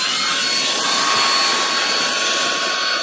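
A Greenote GSC50 cordless vacuum cleaner sucks sand off a car floor mat, giving a steady, loud, high-pitched whine with airy hiss throughout, alone without talk.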